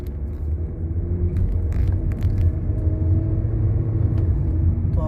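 A Honda Civic running on CNG accelerates with a steady, loud low engine rumble that builds gently over several seconds, heard from inside the car with no talking.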